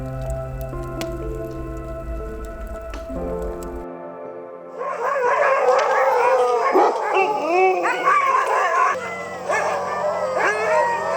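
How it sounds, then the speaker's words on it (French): Sled dogs at a musher's kennel near Dawson break into loud overlapping howls, yips and barks after a stretch of steady tones, the chorus swelling and wavering with several animals close by. "là du coup on va sortir ces chiens de traîneau"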